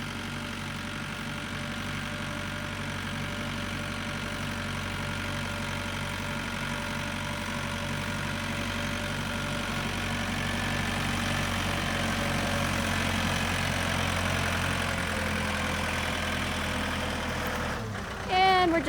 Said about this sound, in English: we're just gonna park the tractor here for the night.